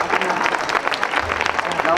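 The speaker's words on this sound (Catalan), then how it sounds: "Aplauso y medio" Applause from a crowd at a municipal election candidacy presentation: dense, steady clapping for about two seconds, mixed with voices speaking over it.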